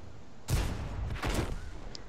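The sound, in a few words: tank gun firing HE round in World of Tanks video game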